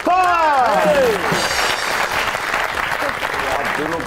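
A studio audience applauds and cheers to welcome a guest on an Eid special comedy talk show, with loud, steady clapping throughout and a host's voice rising over it at the start.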